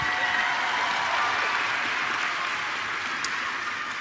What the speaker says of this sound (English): I want to start by giving a round of applause to Maya for her wonderful introduction